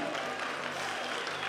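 Church congregation breaking into steady, continuous applause, a dense wash of clapping that fills the whole moment without pause.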